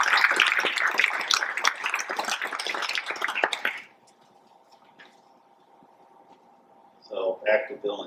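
Applause from an audience for PTA parents at a school district event, a dense, steady burst of clapping that fills the room for several seconds, cuts off into near silence, then a short scattered flurry returns at the end.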